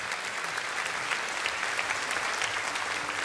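Applause at a Christmas carol concert at the National Opera, with dense clapping from a crowd heard at a moderate, somewhat distant level for a few seconds.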